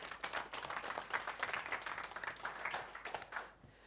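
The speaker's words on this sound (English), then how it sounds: "If you want to give him a round of applause," Audience applause welcoming a speaker back to a stage, a fairly quiet, distant room of hands clapping continuously for a few seconds and then dying away abruptly at the end.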